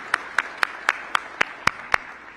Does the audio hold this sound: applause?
yes